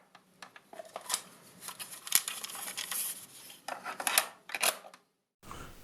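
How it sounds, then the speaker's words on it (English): A cassette data tape being handled and pushed into a tape drive: a close series of sharp plastic clicks, clacks and mechanical clunks in uneven bursts, then a brief silence before a low hum resumes. "I'm going to get that one in a tape drive"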